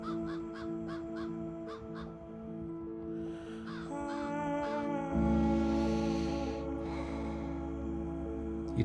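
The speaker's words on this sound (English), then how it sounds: "the distant call of a raven" A large corvid gives several hoarse, repeated caws at a distance, set against a steady low hum and quiet background.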